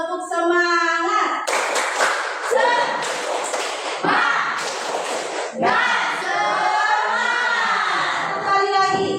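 A group at a briefing performs a rhythmic cheer clap, bursts of sharp clapping alternating with chanted voices in a set pattern, loud and close.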